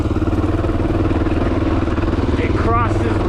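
A Honda XR650L motorcycle ridden off-road up a rocky creek trail, its single-cylinder engine chugging loud and close with a steady pulsing rumble and some clatter throughout.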